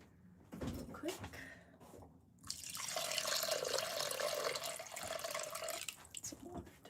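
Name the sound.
water added to clay on pottery wheel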